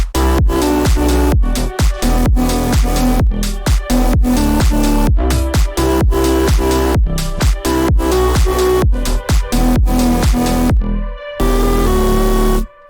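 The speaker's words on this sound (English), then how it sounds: "So the drop sounds like this for now." Bass house drop built from Vital synth presets, loud punchy electronic bass stabs and kicks in a driving rhythmic pattern, with a short break and a sustained synth chord near the end, no talking.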